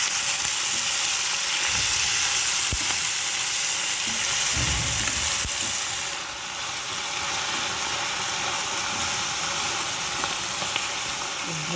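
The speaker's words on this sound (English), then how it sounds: "I'm frying my herbs" Meethi herbs frying in a pan with green chilies and garlic give a steady, close, bright sizzle, with a few brief stirring clunks early on.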